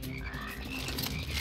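A brief stretch of frog croaking from the video game Immortal Redneck, rhythmic and moderately loud, the croaks repeating in quick succession with no speech.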